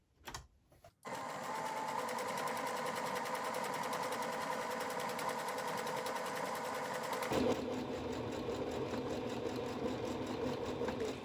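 A sewing machine runs in one long, even hum as it stitches the side seam of a layered fabric face mask, its pitch shifting partway through, with no talk.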